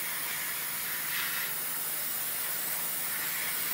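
Steady, close hiss of an airbrush laying down thin layers of yellow Ammo MIG acrylic paint on a 1/48 scale Eduard Focke-Wulf Fw 190A-8 model, continuous and without pauses.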